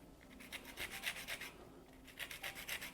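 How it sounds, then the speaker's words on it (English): Fresh lemons being zested on a grater, rapid rhythmic rasping strokes in two bursts with a short pause between, close and fairly quiet. "So I'm going to go ahead and zest up about 4 or 5 of these"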